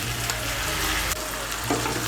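Half-boiled mung dal being stirred into sizzling spiced vegetables in a pan for chire khichuri, a continuous loud close-up frying hiss with scraping stir strokes, no voices.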